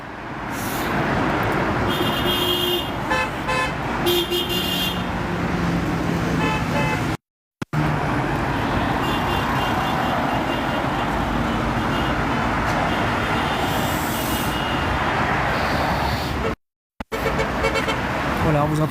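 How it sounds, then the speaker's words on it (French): Passing cars honk their horns in support of farmers blocking the N118 near the Vélizy bridge, with repeated toots over loud continuous roadway traffic. "les gens qui passent hein, de l'autre côté, qui klaxonnent en soutien aux agriculteurs."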